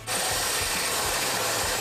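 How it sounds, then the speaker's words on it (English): A 2 1/8 inch hole saw cuts through a 2020-2024 Ford Explorer body panel during a trailer hitch install, a steady continuous grinding rasp at close range with no pauses and no talk. "I'm gonna go ahead and make a cut with a 2 1/8 inch hole saw."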